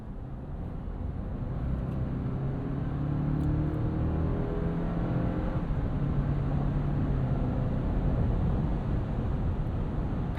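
A 2026 Toyota 4Runner Platinum, a heavy luxury off-roader weighing almost three tons, pulls out to pass on the highway, its engine note climbing steadily under constant road and wind roar, with no talk.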